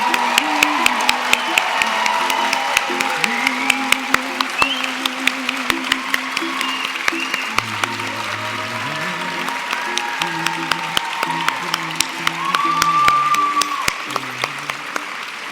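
Commencement crowd applauding and cheering the class of 2025 graduates, a broad rolling wash of clapping and occasional whoops beneath sustained music, continuous and loud throughout.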